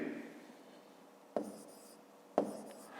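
A pen writing numbers by hand on paper during a fifth-grade math lesson, with soft continuous scratching close up, broken by two sharp taps as the pen touches down.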